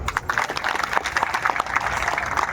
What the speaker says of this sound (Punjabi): ਸਾਰੇ ਸੰਗਤ ਤਾੜੀ ਮਾਰ ਕੇ ਦੱਸੋ